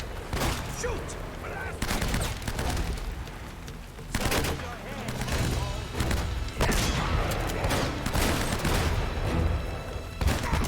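Gunfire rattles through a firefight in Uncharted: Drake's Fortune, with bursts of rifle shots and heavy thumping blasts in quick succession, dense and loud throughout, while a player's voice talks over the action.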